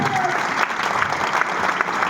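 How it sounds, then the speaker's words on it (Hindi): An audience at a gathering gives hearty, continuous applause for guru ji, a dense wash of clapping that stays loud and even throughout. "तो मैं एक बार चाहता हूँ गुरु जी ने जबरदस्त ताली होनी चाहिए।"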